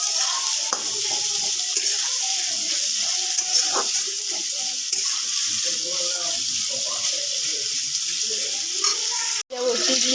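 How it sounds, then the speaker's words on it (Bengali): Onions frying in a pan during a home meat curry preparation give a steady, loud sizzle throughout, with scattered stirring clatter and a sharp brief break near the end. "পেঁয়াজটা এবার এরকমভাবে ভাজতে থাকবো।"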